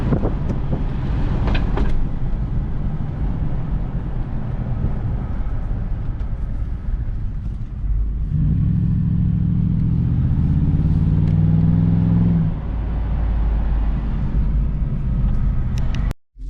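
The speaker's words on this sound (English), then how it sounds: "from this stop sign, at least you better hear the exhaust" A 2007 Land Rover LR3 4.4-litre V8 SUV rumbles steadily with a deep exhaust drone, rising to a louder growl partway through as it pulls away, then cuts off abruptly.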